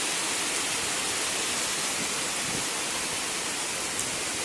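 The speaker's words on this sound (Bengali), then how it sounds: "তো বৃষ্টির শব্দ উপভোগ করি আমরা" Steady winter rain falls continuously on a rooftop garden, a dense broadband hiss with no breaks, fairly close and even in loudness throughout.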